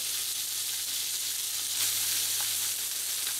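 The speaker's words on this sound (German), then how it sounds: "Und lassen das jetzt nochmal kurz braten." Rump steak fries in a hot pan, giving off a steady, gentle sizzle and hiss throughout. A single brief crackle flares partway through. Nobody speaks.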